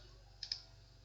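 Two quick, faint clicks of a computer mouse sound in close succession over a low electrical hum, with no voices.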